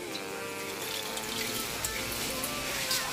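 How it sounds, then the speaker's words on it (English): Tap water pours steadily into a cooking pot in a home kitchen sink, a continuous close splashing rush with no talking. "Let that get some water in there."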